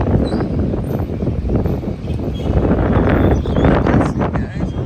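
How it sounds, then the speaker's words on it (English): Strong wind gusting across an outdoor patio at a rented property in Dakar, Senegal, a loud, steady broadband roar that swells and buffets the microphone throughout, with no speech. "Oh my god, it's really windy right now."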